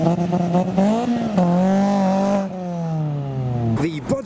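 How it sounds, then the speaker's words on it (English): Ford Fiesta engine revving hard while spinning in a traffic jam of modified Japanese cars, its rising and falling engine pitch loud and close, then a sharp squeal near the end. "The Fiesta's entertaining himself with some revolutions and spins."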